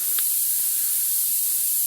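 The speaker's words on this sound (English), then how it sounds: "give that a quick blast with the media blaster" A media blaster sprays steadily into a rust hole in an old Dodge Phoenix car body, a loud, continuous high-pitched hiss that runs unbroken through the whole clip with no talking.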